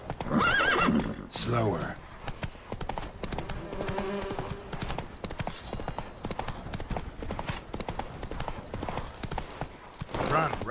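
Roach, the horse in The Witcher 3, galloping with rhythmic hoof clip-clop and a whinny, loud and close, while a voice speaks over the hooves at the start.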